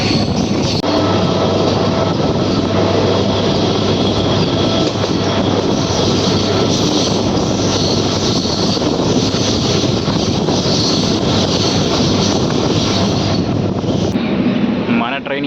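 A MEMU passenger train on the Vijayawada–Bhadrachalam route runs with a loud, steady broadband rumble and rattle of wheels on track, constant throughout, with a low hum beneath.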